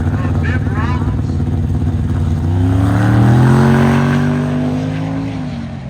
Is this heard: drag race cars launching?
yes